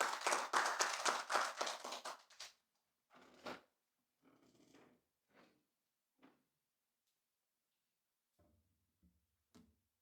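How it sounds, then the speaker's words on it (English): A short round of applause at a conference sponsor reveal and cheque handover: a few seconds of brisk clapping from a small audience, fading into sparse individual claps and quiet room sounds. "A round of applause for our sponsor."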